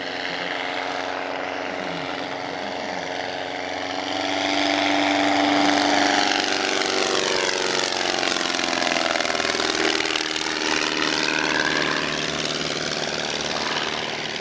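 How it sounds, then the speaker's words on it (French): A Déperdussin replica vintage propeller airplane flying overhead in the sky over Dax, its engine drone swelling louder as it passes near, then sustaining with a shifting pitch, with no talk. "c'est pas tous les jours qu'on voit un avion comme ça dans le ciel de Dax"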